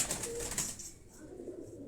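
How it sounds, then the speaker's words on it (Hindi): Pure white Kagzi pigeons of a Quetta breed coo softly nearby, low murmuring calls over a bit of wing rustle at the start, then quieter background. "ये कबूतरों को हम कागजी कबूतर बोलते हैं"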